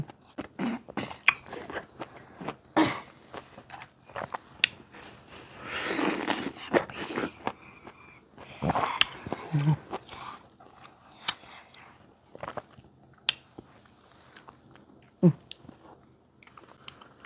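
Taiwanese orange bitten and chewed close up, with repeated wet crunchy bites and chewing bursts spread through the clip and no talking.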